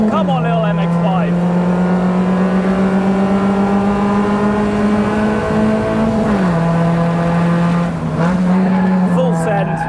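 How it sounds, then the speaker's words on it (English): A Mazda MX-5 race car engine drones loud and close at high, steady revs, dipping briefly around gear changes and then climbing again, like an onboard view during a race. "Come on, little MX-5."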